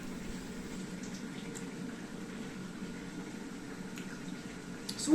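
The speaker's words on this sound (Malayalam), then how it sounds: "അപ്പം ദേ നമ്മുടെ കറി ഇവിടെ തിളച്ച് കുറുകി വരുന്നുണ്ട്" Kerala-style fish head curry simmering in a pot, giving a steady, soft bubbling hiss that holds evenly throughout without talk.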